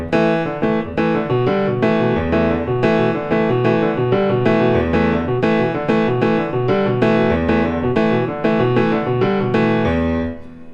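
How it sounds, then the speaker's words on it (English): Jazz funk piano pattern with soft ghost notes from the left hand falling between the chords, played as a steady rhythmic groove for about ten seconds before it fades, with no voices. "play ghost notes with your left hand, in between"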